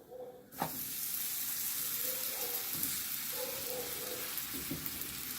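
Steady sizzling of roti frying in a hot pan, a continuous crackle with a few soft clinks and scrapes, no talking.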